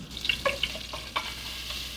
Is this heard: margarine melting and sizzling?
yes